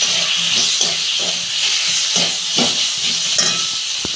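Tomato tossed into a pan with lightly fried onion, ginger and garlic, giving a steady close sizzle with soft stirring scrapes at a loose rhythm, no voices.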